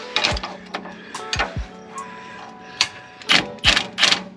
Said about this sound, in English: Rattle gun.